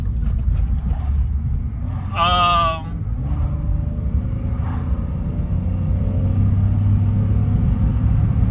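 A car rolls over a rough, bad road, with a steady low rumble and bumping running throughout. A brief bleating or squealing tone rises about two seconds in.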